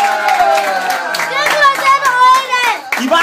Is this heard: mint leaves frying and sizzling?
no